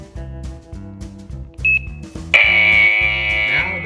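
A WiFi smart home alarm kit hub, the Transmeiot TM-SCC02, gives a short electronic beep followed by a longer sustained tone, heard over rhythmic background music.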